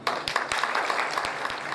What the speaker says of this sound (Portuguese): Os aplausos aqui, recebendo a figura nesta noite.